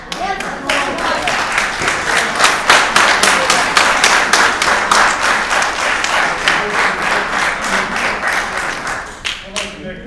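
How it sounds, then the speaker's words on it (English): An audience at a borough general meeting applauds loudly and steadily for several seconds, dense clapping that thins into a few scattered claps at the end. "I understand everybody is clapping for that."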